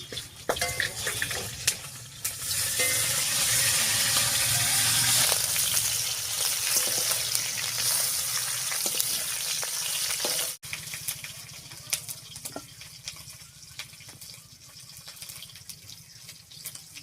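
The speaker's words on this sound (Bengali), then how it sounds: "পেঁপেটা কাটতে কাটতে এদিকে মাছটা ভাজা হয়ে গেছে, একবার নামিয়ে নিচ্ছি।" Magur catfish frying in oil in a pan, a loud sizzle that gradually fades, followed by quieter kitchen clatter and faint sizzling.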